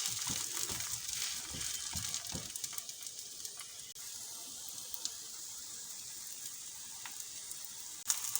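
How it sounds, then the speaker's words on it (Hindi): Paratha omelette cooking on a pan over slow to medium heat, giving a steady soft sizzle and hiss throughout with a few faint scrapes near the start and one brief clatter near the end. "इसको अच्छे से स्लो टू मीडियम हीट पे 1 मिनट के लिए पकाएंगे।"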